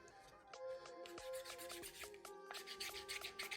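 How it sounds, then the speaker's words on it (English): Slipper parts filed by hand without any machine, giving repeated scraping, rasping strokes at a steady close range for a few seconds with no talking. "I'm going to be doing manual filing"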